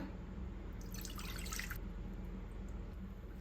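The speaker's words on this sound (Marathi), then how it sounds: "आता पुन्हा हे पाणी ह्याच्यात गाळून घेऊया" Cumin, pepper and fennel spice water strained through a sieve drips faintly into a vessel, a quiet short trickle rising briefly in the middle over a low steady background hum.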